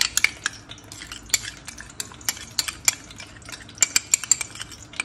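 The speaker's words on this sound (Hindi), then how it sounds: "इसको मैंने चिकन के अंदर मिक्स कर दिया" Chicken is stirred in a tikka marinade with a spoon, giving close, wet clicks and scrapes in an irregular rhythm, with a faint sizzle beneath and no talking.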